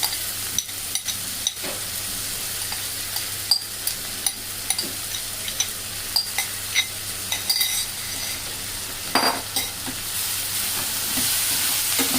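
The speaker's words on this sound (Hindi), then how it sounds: "अब प्याज को हम भूनने देंगे।" Chopped onions, two large and one small, fry in a pan for a jackfruit curry, with a steady sizzle broken by frequent stirring scrapes and clinks of a spoon against the pan.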